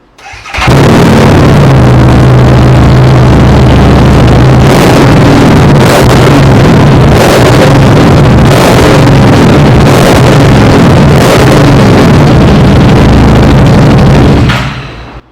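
A Harley-Davidson motorcycle runs with baffles fitted in its exhaust, a loud, close, thumping rumble that starts abruptly, holds steady with a few sharper blips of throttle, and cuts off at the end.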